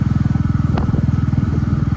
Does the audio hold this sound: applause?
no